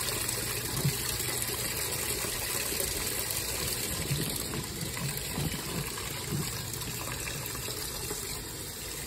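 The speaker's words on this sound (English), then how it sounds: "Let the hot water run." Hot water runs from a tap into a tub for washing fabric grow bags, a steady gushing splash heard close and moderately loud throughout, without any voices.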